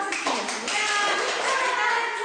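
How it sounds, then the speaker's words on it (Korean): Rhythmic hand clapping in a clap dance during a choreography lesson, the sharp claps sounding close and in time over music, with a voice also heard. "박수춤 한번 리듬감을 살려서 다 같이 해볼까요?"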